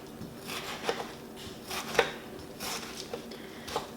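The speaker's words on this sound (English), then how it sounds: "we are going to slice our tomato so that it is diced" A knife dicing a tomato on a cutting board, with soft, irregular chops and a few sharper taps against the board, close and fairly quiet.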